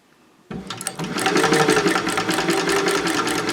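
A sewing machine stitches a seam on an all-purpose fabric caddy, starting abruptly after a brief quiet and then running in a fast, even mechanical rattle, close and loud, with no talking.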